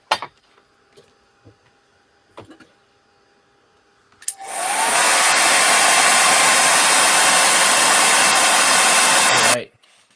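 A dryer blows on a flower-themed craft project. It starts abruptly after a few quiet clicks and taps, then roars as a loud, steady close rush of air for about five seconds before cutting off.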